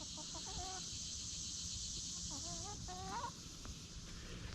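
Hot-weather farm chickens cluck and call in short bursts of rising, warbling notes, close and moderately loud over steady outdoor background noise.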